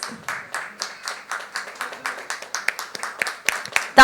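An audience claps in bursts at a generic diabetes medicine product launch, a steady rhythmic patter of hands close by ending in a louder swell.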